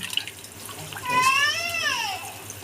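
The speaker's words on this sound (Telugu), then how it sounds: "నానబెట్టిన రైస్ దీంట్లో వేసుకున్నాం ఇప్పుడు ఈ విధంగా రైస్ వేసుకొని కలుపుకోవాలండి బాగా" Soaked rice poured into a pot of boiling water while making Telangana-style khichdi. A short, close splash and pour rises briefly over a simmering background, with a voice faintly audible.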